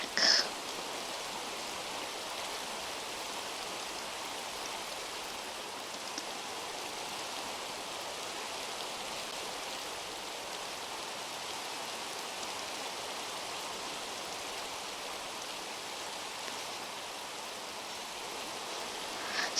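Steady heavy rain pours throughout, a dense even hiss of drops on surfaces with no talk over it, loud and continuous from start to finish.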